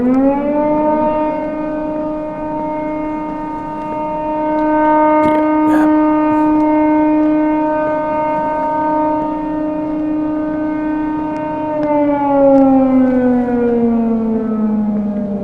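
A long wailing siren from the horror video game Don't Scream, with layered harmonic tones, holds steady, then slides downward near the end; loud and continuous, no talking.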